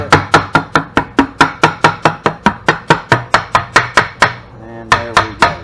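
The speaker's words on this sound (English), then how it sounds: "You may have to take a rubber mallet and tap a little bit." A rubber mallet taps a side cover into place on an EZGO Robin 295/350 engine: about twenty sharp, evenly spaced knocks in quick succession, close and loud. There is a brief pause before the last few strikes.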